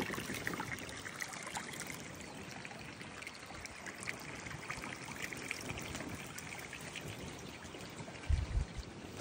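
Irrigation water runs steadily through a rice field, a continuous trickling, pouring flow at moderate level with no talk, and a brief low thump near the end.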